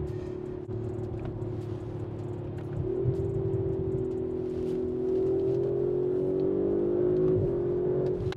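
A four-wheel-drive Renault RS car accelerating, its engine a steady loud drone that rises in pitch in stages with a gear change near the end, heard close and alone without talk.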